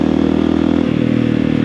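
A motorcycle engine hums steadily up close, its pitch shifting as the rider picks up speed again after rolling over a speed bump.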